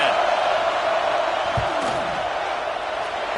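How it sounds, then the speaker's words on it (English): Stadium crowd noise fills a football video game before a 4th-down field goal attempt, a constant dense roar with a single low thump partway through; no talking. "This crowd trying to do its part to get inside the kicker's head"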